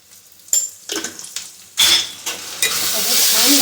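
Masala, with turmeric, onion, tomato and garlic, frying and being stirred in a pan over a low gas flame: a few soft scraping stirs first, then a louder, steady sizzle that builds near and close.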